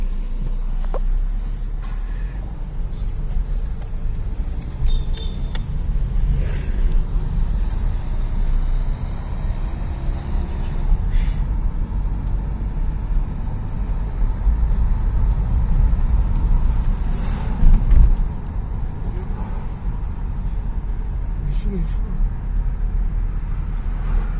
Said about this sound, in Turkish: Yavaş oradan arabalar geliyor bak görünüyor.